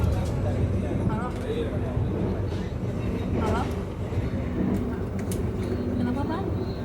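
Interior of a moving train bound for Bandung, a constant loud rumble and rattle of the carriage, with someone talking on the phone over it and faint squeals in the background.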